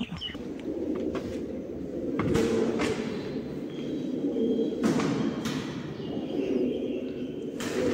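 Pigeons coo softly and steadily inside the domed stone Qutub Shahi tomb, a low echoing murmur with occasional faint thumps and flutters from the birds.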